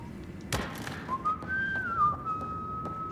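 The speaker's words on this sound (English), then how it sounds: "No whistling." Gliding whistled tune from a character in the game Mass Effect: Andromeda, a clear sustained tone rising then settling, heard fairly near over a low rumbling background with a thud at the start.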